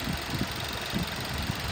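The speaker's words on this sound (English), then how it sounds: "It idles smooth, it revs up nice, it has not overheated." A 2013 Ford Transit Connect XLT with a 2.0L engine and 63k miles idles steadily, giving a continuous low hum with faint rhythmic pulsing.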